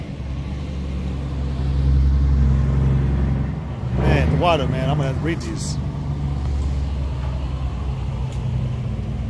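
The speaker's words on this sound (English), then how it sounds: "I'm gonna let this loud ass truck go by real quick." A loud truck passes nearby outdoors, its deep, steady engine rumble swelling and holding for several seconds while someone talks over it.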